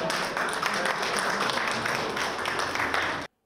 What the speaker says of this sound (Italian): Vai, e facciamo anche l'applauso.